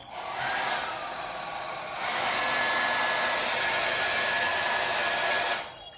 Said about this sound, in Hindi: अब हम मारेंगे अपने बालों पे हेयर ड्रायर